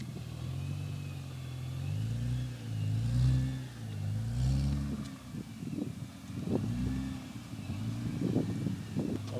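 Nissan GT-R engine revving with a fairly quiet exhaust note, rising and falling low rumbles over several seconds, moderately close with no talking.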